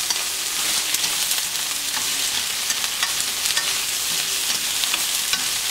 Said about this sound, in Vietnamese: Chúng ta chỉ đảo thêm một tí xíu nữa là chúng ta cho phần tôm này ra